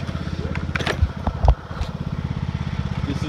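A Husqvarna 125 BT backpack leaf blower runs close by with a steady, rough two-stroke engine buzz and small surges in loudness, used for spring yard cleanup.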